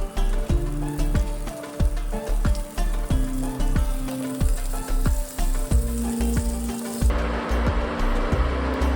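Kingfish (surmai) pieces coated in rice and wheat flour fry in a pan with a steady, loud sizzle and repeated soft clatters, the crackle thinning near the end.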